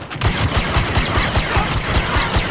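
Rapid gunfire from a Star Wars Battlefront 2 campaign mission, a quick run of sharp repeating shots with a mechanical rattle, steady and moderately loud throughout.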